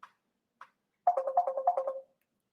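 A phone rings with an incoming call: two faint short chirps, then a louder warbling electronic trill lasting about a second, alone and close.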